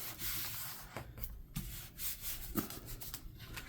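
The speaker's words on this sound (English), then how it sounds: "I'm gonna rub that down." Rubbing down a trifold paper Christmas craft tag by hand, close scratchy strokes repeating in short uneven passes, with a few sharper scrapes standing out.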